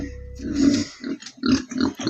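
Wild boar grunting repeatedly in a series of low, rhythmic snorts and oinks, close and fairly loud, with brief gaps between the grunts.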